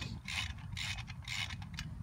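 Ratchet wrench tightening bolts on the brake rotor of an Isuzu Amigo, a quick series of close, crisp clicking bursts in quiet surroundings.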